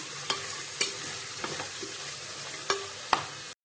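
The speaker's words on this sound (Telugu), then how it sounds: "ఇవన్నీ కూడా ఆయిల్లో ఒక 5 మినిట్స్ బాగా ఫ్రై చేసుకోవాలి" Vegetables for vegetable rice fry in oil with a steady close sizzle, while a spoon scrapes and knocks against the pan a handful of times as they are stirred.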